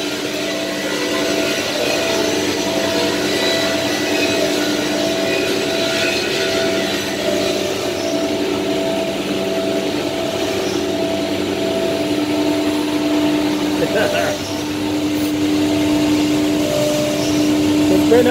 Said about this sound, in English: So right now it's cutting out all the side panels.